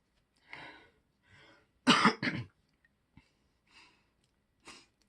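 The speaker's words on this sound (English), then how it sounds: "Everybody in this house just has an ongoing cough for the past few months." A person with a lingering dry cough in a quiet home coughs and clears their throat several times in short, separate bursts, including one louder double cough near the middle. The sounds are close but fairly soft, with silence between them.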